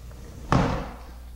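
A sliding glass door fitted with a Honeywell 5811 sensor is moved, giving one sharp thud as it shifts, followed by a short fading rattle over quiet background.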